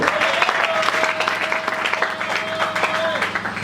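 A church congregation applauds and cheers loudly at close range, a dense wash of clapping with a voice speaking over it.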